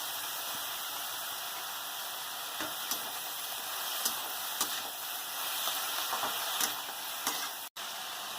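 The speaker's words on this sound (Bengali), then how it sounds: "বেগুনটা নেড়ে ধুয়ে রাখা বেতো শাকটা এর মধ্যে দিয়ে দেবো শাকটাও একটু নেড়ে নেব" Bethua greens and eggplant being stirred in a frying pan, a faint low hiss of cooking under soft intermittent scraping taps of a spatula, with a brief cutout near the end and no voices.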